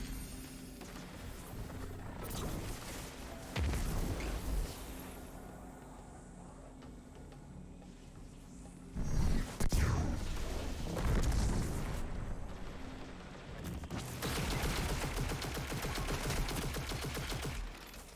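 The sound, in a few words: enemy gunfire in Destiny 2 video game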